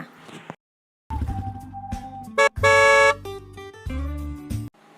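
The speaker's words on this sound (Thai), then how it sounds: "รถยนต์" A car horn honks in several separate blasts of differing length and pitch, loud and close, with brief silences between them.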